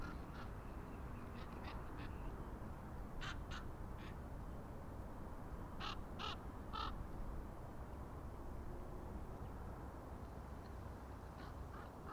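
Faint crow caws come in scattered pairs and triplets from far off near East Midlands Airport, set against a constant wash of outdoor ambient noise.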